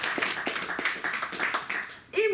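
Audience clapping for the hosts at a comics festival forum, a run of scattered claps under a speaking voice, which then gives way to louder talk near the end.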